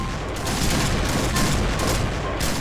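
Rapid gunfire in the Point Blank shooter game: a dense, loud stream of overlapping shots and booms fills the whole moment with no break.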